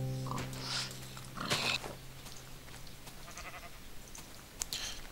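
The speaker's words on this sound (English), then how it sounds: "Come here, sheep." A Minecraft sheep lets out a short bleat near the start, followed by a few more brief game blips and animal noises over a soft background, close and clear, without talk over them.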